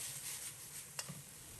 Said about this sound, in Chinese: 断生以后，加入适量的盐调味，继续翻炒，把盐化开